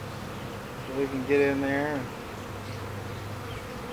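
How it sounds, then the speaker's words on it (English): A honey bee swarm buzzes nearby as it is brushed toward a top bar hive, a steady insect drone that swells briefly while someone speaks a few words over it. "We'll see what we can do about brushing these bees away."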